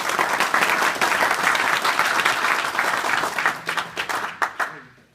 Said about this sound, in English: give Pat Clark a round of applause